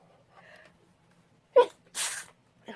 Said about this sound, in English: Oh my gosh, now I'm going to have another sneeze.